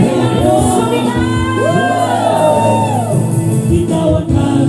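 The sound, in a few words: church crowd shouting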